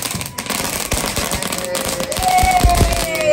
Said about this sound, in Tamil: நம்ம தானே பட்டாசு அடிச்சோம்